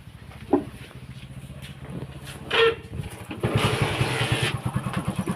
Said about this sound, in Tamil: ஓகே வண்டி ஸ்டார்ட் ஆகுது